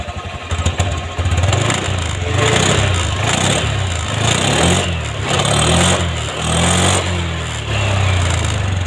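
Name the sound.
Honda Scoopy scooter engine revving with throttle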